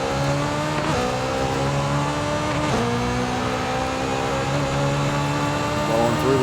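A Honda S2000 on a drag run in Forza Horizon 5 revs hard through a rising engine whine, with pitch climbing and dropping at each gear change, a steady, loud sustained pull.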